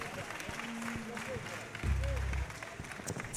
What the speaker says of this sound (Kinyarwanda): mubakomera amashyi menshi cyane